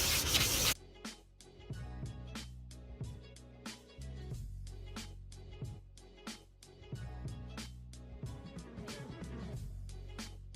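A car headlight on a Mitsubishi VR4 is hand sanded with 400 grit sandpaper, giving close, rhythmic back-and-forth rubbing strokes that repeat steadily without pause.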